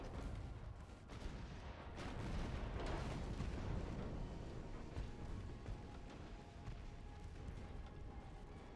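Naval guns fire in the warship battle game Ultimate Admiral: Dreadnoughts, a steady barrage of heavy booms and overlapping blasts that rumble loudly throughout, with a little faint talk.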